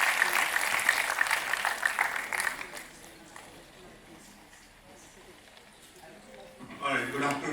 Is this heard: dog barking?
no